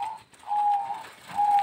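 A perkutut (zebra dove) of the udan mas kebak type coos nearby, giving soft, pure, sustained whistling notes with a short pause between two calls, alone in a quiet setting.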